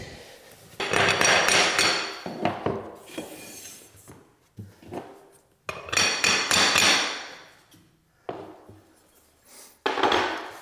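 Laminate flooring boards in a garden room are hammered to close a gap: loud, close bursts of rapid wooden knocking come in three long runs separated by short pauses.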